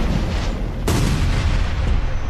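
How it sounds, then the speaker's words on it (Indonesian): A sudden loud blast bursts out and leaves a roaring, rumbling wash of noise that continues afterward. "tiba-tiba ada suara ledakan"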